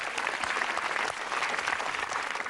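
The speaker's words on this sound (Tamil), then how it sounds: "அப்ப கைதட்டு" A studio audience at a Tamil kids' game show claps in a sustained, dense burst of applause for a few seconds.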